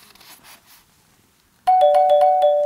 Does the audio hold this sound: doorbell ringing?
yes